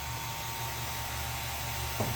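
Vacuum pump evacuating the air conditioning system of a 1983 Porsche 944, a steady, even whirring drone that holds unchanged, close and moderately loud, with a small thump near the end.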